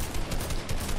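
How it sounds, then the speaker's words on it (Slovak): Machine gun fire in the video game Fortnite, a loud, continuous burst of rapid automatic shots rattling through the whole second with no voice over it. "ten gulomet sa proste len myka do strán, s tým sa nedá strieľať vôbec"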